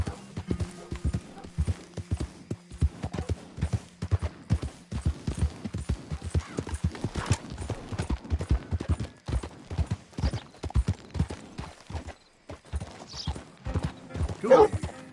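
Horse hooves clip-clop at a steady walking rhythm in Red Dead Redemption 2, close and distinct throughout, with brief pauses and a short whinny near the end; a voice murmurs softly in places.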